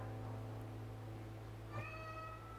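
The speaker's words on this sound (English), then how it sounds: "A whiny cat is what." Cat meowing faintly once, a short whiny rising call near the end over a steady low background hum.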